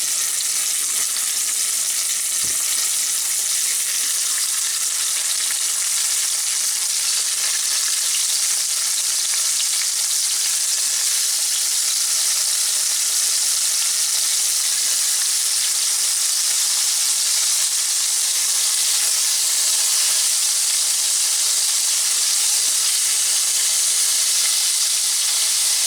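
Squirrel meat seasoned with pepper frying in a pan, a steady loud sizzle and crackle of hot fat that continues unbroken throughout, close up with no talk.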